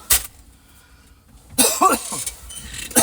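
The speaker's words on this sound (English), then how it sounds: "I think I'm getting a cough." Two or three sharp coughs, one at the start and another near the end, with breathy rustling and movement noise in between.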